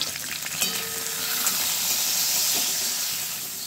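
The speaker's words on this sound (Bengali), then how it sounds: "শিমটাকে আমি হালকা করে একটু ভেজে নিচ্ছি।" Flat beans frying lightly in a small amount of oil, a close, steady sizzle with the hiss of steam and occasional stirring scrapes against the pan.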